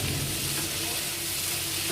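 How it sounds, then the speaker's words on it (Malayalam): Chopped tomatoes sauté in a pan for homemade pizza sauce, a steady broadband sizzle and frying hiss running continuously throughout, close and even. "ഇതും നന്നായിട്ട് അലിയുന്ന പോലെ അത് നമുക്ക് വഴറ്റിയെടുക്കാം"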